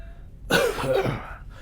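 A single harsh cough, close and loud, breaking a quiet moment and trailing off after about a second.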